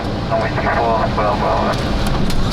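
Boeing 737 airliner touching down on a runway in gusty wind, a steady loud roar of engine and airflow noise filling the cabin throughout, with faint voices underneath.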